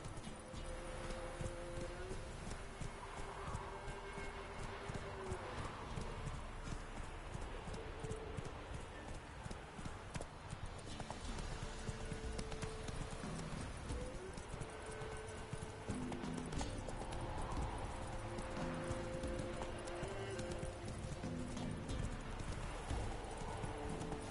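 Roach the horse gallops in a PS4 video game, with rapid rhythmic hoofbeats that stay steady and close, over a continuous game soundtrack and ambience.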